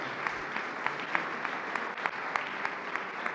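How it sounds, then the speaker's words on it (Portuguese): A church congregation at a regional missionary conference applauds, a moderately distant, even patter of many hands clapping with a few sharper claps standing out. "Vamos receber o pastor Ibrahim, aplaudindo ao Senhor."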